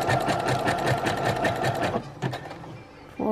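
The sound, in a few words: Brother sewing machine sewing a back stitch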